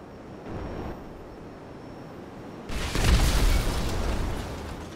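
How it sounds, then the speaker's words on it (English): Homing missiles striking an unupgraded Mammoth Thruster in GTA Online: a faint early thump, then one loud, close explosion bursting out midway and rumbling away over the next couple of seconds. "we're gonna see how many homing missiles it can take"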